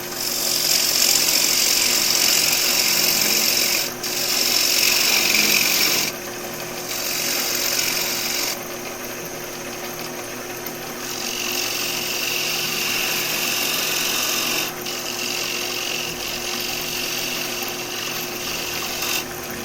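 A spindle gouge cuts wood on a spinning lathe, giving a loud continuous whirring hiss that shifts in pitch and intensity as the tool moves through several passes.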